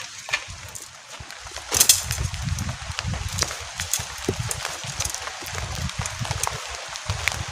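Heavy rain pounds a camping tent during a storm with wind, a dense close patter studded with sharp, loud cracks of drops and flapping, peaking briefly near the start and staying busy throughout.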